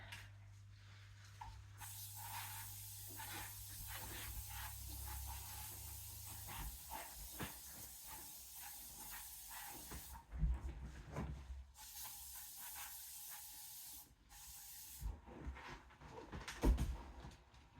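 Quiet, repeated hissing bursts of a cleaning spray bottle over soft background noise and faint handling sounds.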